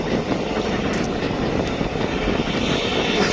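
A passenger airliner arriving from Tenerife on approach to Birmingham Airport gives a loud, continuous broadband engine roar with a steady hiss and no pauses, with no voices over it.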